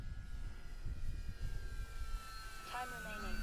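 A small E-flite Decathlon RC model airplane on a 4S battery flies over a grass field in crosswind, its motor drone steady and moderately distant with wind noise, and a rising pitch sweep near the end as it passes.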